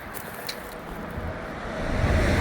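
Road traffic passes close to a hiker walking along a roadside near a freeway crossing: a broad rushing roar that swells toward the end as a vehicle nears, with some wind buffeting on the microphone.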